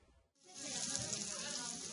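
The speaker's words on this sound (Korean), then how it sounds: "지글지글 구워진 삼겹살에 풍성한 쌈채소들" Pork belly sizzles on a grill, a dense, steady crackling hiss that starts abruptly after a brief quiet moment and holds at moderate loudness with no voices.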